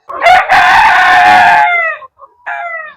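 A rooster on a desi poultry farm crows loudly and close, one long sustained call that trails off, followed by a shorter second crow after a brief pause.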